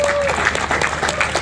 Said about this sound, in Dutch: Geef ze even een warm applaus